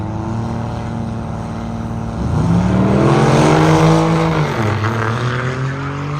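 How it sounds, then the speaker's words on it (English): An LS-powered Camaro and a diesel pickup truck launch side by side at a drag strip, engines roaring loud and close, their tones rising sharply as they accelerate, then a gear shift and a continued howl. "the LS-powered Camaro left side. Against the diesel pickup truck."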